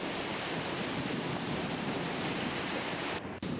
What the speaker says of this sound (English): the Buckeye plows through shattered ice, pushing its way upbound through the St.